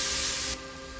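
Onions and garlic sizzle in a hot stew pot after the beef is browned, a steady hissing fry that drops noticeably in intensity halfway through and carries on more softly.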